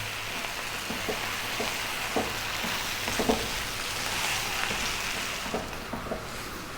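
Beaten eggs frying in a pan as they are stirred almost constantly, a steady close sizzle with light scraping taps of the utensil throughout, moderately quiet, with no voices.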